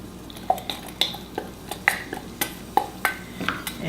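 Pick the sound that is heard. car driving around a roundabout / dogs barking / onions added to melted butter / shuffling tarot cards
onions added to melted butter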